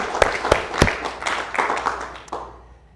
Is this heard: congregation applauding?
yes